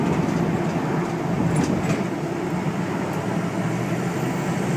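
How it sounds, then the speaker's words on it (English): A 2004 Ford Excursion diesel 4x4 accelerates hard through a kick-down transmission shift, producing a steady, loud roar of engine and road noise throughout, with no talking. "There you go, the kick down shift."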